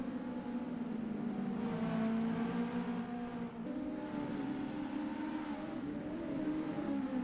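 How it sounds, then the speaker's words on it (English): Race cars at Knockhill run almost nose to tail across the start-finish straight, a loud, steady engine drone that swells slightly as the cars pass. "14th and 15th are even closer together than that, almost nose to tail, coming across the start-finish straight"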